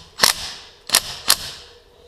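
A small Makita cordless impact wrench tightens wheel nuts in three short, sharp bursts: one, then a pause, then two more close together, each a brief, rattling clatter against a quiet background.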